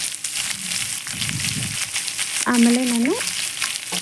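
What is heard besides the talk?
onions being stirred and fried in a pan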